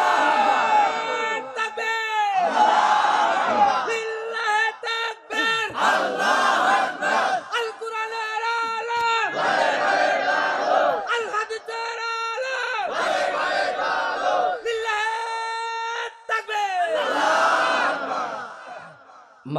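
A large gathering at an Islamic sermon (waz) roars out the takbir response in repeated loud, full-throated collective shouts, each surge swelling and fading in rhythm across the hall.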